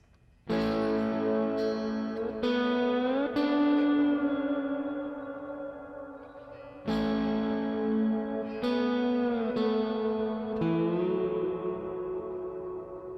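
Sustained slide guitar lead on electric guitar with sliding pitch bends, notes ringing out with effects and reverb, two phrases separated by fresh attacks, played alone.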